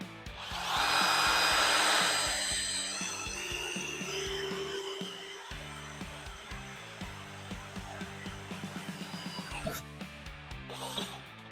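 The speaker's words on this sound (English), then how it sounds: "Let's drill a hole with it." A cordless power drill with a Vanon replacement battery whines loudly as it bores, then the motor slows into a steady grinding hum with rhythmic clicks before stopping.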